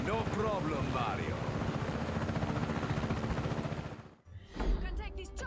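A helicopter in the Just Cause 3 action game whirs with a continuous rotor drone. Voices speak over it at the start and end, and the drone briefly cuts out before returning.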